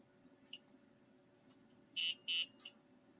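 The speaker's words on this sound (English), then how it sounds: "That beeping you hear is the sound, the drive head emulator in the HXC is on. It emulates the sounds." An HxC floppy emulator's drive-head sound emulation, used with a Kaypro computer, gives a faint chirp, then two loud sustained electronic beeps and a short third one over a steady low hum.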